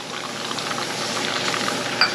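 A stick of butter, olive oil and turkey fat boil together in a pot for a turkey marinade, giving a steady close bubbling hiss with a small pop near the end.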